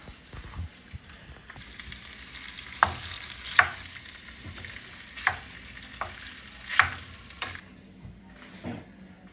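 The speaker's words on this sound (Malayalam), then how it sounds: "അപ്പോൾ ഞാൻ നല്ല തക്കാളി പേസ്റ്റിലേക്ക് ഈ പാസ്ത ഇട്ടിട്ടാണ് മിക്സ് ചെയ്യാണ്" Cooked pasta stirred into tomato paste in a pan, a quiet sizzle broken by several sharp clinks and scrapes of a utensil against the pan, with no voices.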